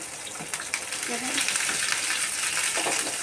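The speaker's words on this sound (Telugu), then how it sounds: "మొత్తం అన్నీ వేసి వేగుతున్నా కదండి." Ginger, dried red chilies and curry leaves sizzle and crackle steadily in hot oil in a pan, a close, continuous frying hiss with occasional stirring.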